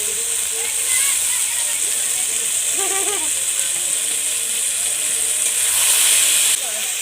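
Potatoes frying in hot oil for egg chowmein give a steady, loud hiss that runs throughout, with a brief warbling tone partway through.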